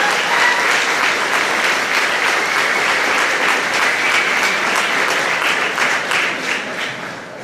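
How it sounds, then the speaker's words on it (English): An audience at a 2010 graduation ceremony gives a sustained, loud round of applause for three students after their presentation, thick clapping that holds steady and then tapers off. "there should be a round of applause for the three students who put together that presentation"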